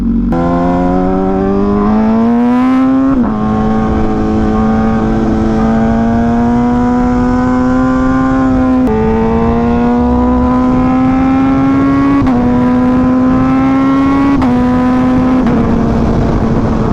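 A loud Italian motorcycle with about 200 miles on it drones steadily while cruising on the freeway. The engine hum is continuous and close, with small rises in pitch as it revs slightly, and no talking.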